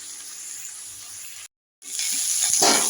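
Peas and capsicum sizzling in a pan, a close steady hiss that cuts out briefly, then returns louder with a swell of stirring, no talk.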